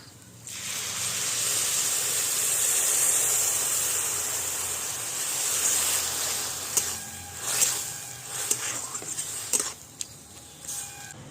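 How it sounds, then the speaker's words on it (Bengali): Milk poured into a hot pan of lightly fried carrots for carrot halwa, giving a steady loud hiss that settles into softer sizzling with scattered crackles. "এবার দিয়ে দিচ্ছি দুধ"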